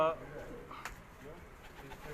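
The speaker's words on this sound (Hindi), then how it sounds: "घर के मेन जो कबूतर है ब्रीडर उसका शो करवा रहे हैं आपको" Breeder pigeons coo softly on a rooftop loft, low throaty calls near the start and scattered through, with someone talking over them.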